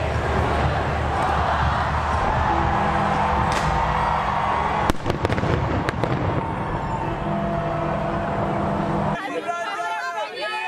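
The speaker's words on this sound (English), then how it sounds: "watch the New Year's Eve firework" New Year's Eve fireworks in London, with distant booms and crackling bursts over a steady crowd murmur, people chattering nearby throughout.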